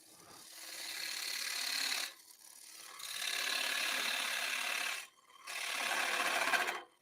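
A lathe gouge shaves a spinning silver maple blank at about 1200 RPM, a soft close scraping hiss in three sustained passes with brief pauses between them.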